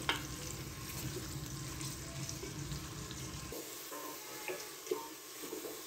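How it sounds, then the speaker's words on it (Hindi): Onion frying lightly in a pan for a beef curry, a soft continuous sizzle with occasional stirring clinks, close but fairly quiet, thinning out partway through. "प्याज को हम यहाँ पे लाइट सा फ्राई करेंगे"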